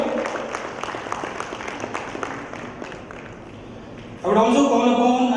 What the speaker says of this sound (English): A huge round of applause for our special guest here.